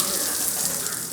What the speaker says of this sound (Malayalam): എന്തിന്, കൂട്ടിലൊരു ഷവർ തന്നെ ഒരുക്കിയിട്ടുണ്ട്